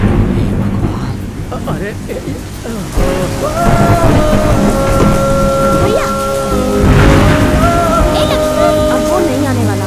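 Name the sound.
thunder and heavy rain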